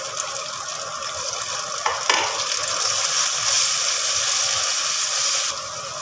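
Tomatoes are added to onions frying in a pan, producing a loud, continuous hiss and crackle that swells after a small clatter and carries on steadily.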